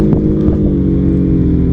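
A Dodge Challenger Redeye's engine drones loud and steady with a deep low-frequency rumble as it downshifts. Wind buffets the microphone throughout, and no one speaks.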